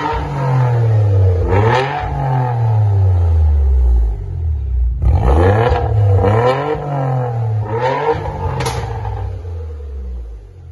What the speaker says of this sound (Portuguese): Foi instalado um escape da Capristo.